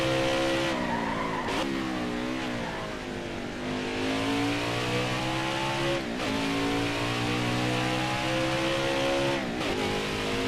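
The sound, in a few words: race truck driving, NASCAR Heat 5 video game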